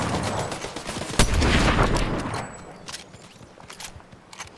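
Gunshots in a battle-royale shooter, including a sharp loud crack followed by a dense burst of rapid fire that fades into scattered distant shots.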